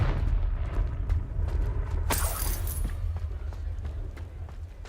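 In Hogwarts Legacy, a Confringo blasting spell bursts in a single sharp, bright explosion over a steady low game rumble, then fades quickly.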